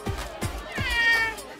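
A cartoon cat meows in a drawn-out, wavering cry over a soft background of rhythmic thuds, heard without talk.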